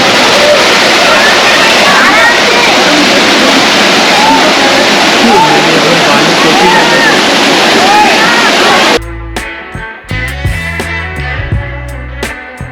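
A small waterfall in Pachmarhi, India roars steadily up close in a loud, continuous rush of falling water. Then it cuts abruptly to music.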